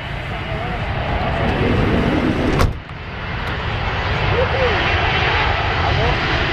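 The jet engines of a DAT McDonnell Douglas MD-87 airliner roar loudly and steadily during takeoff, a broad, continuous rumble with one brief sharp knock partway through. Voices can be heard in the background.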